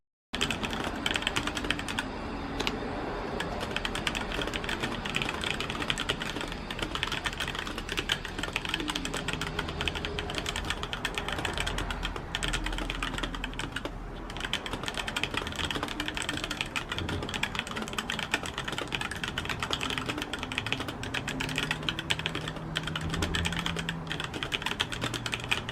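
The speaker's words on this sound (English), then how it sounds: "here's what the keyboard sounds like" Typing on a HyperX Alloy Origins mechanical gaming keyboard with Aqua switches and Cherry stabilizers, a continuous close rapid clatter of keystrokes heard alone for the whole stretch.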